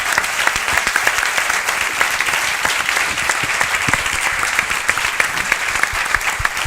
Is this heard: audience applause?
yes